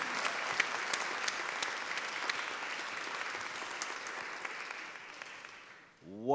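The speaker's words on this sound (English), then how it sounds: "Give them one more round of applause, please." Audience applause for the first panelists at a summit opening session, steady clapping filling the room and fading out near the end before a voice begins.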